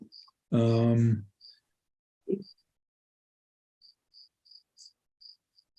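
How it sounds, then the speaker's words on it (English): Short, evenly spaced cricket chirps ring out softly, with a brief burst of talk and a quick noise in between. "I hear crickets."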